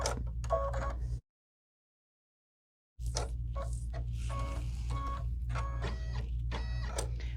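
Embroidery machine stitching a tack-down line through golden yellow appliqué fabric for a pineapple tote, a steady rapid mechanical chatter that stops for about two seconds mid-clip, then resumes with ticking needle strokes.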